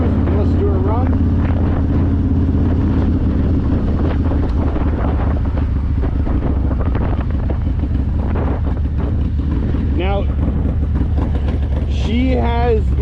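2024 Harley-Davidson Low Rider S with HPI exhaust, CR483 cam and Thundermax tuner cruising, its steady engine drone buried under loud, constant wind buffeting on the mic, with a few rising revs near the end.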